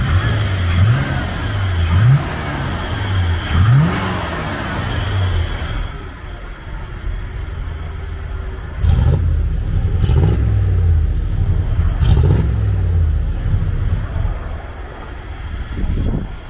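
A truck engine runs steadily at idle, then revs up into a series of rising, roaring bursts, with several sharp throttle blips near the end over a continuous low rumble.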